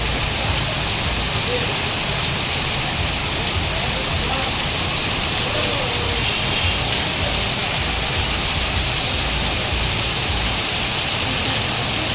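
Rain falls on Napoklu town in a dense, unbroken roar, loud and close, with a constant hiss that never lets up.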